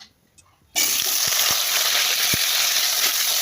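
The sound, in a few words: potatoes added to hot oil, frying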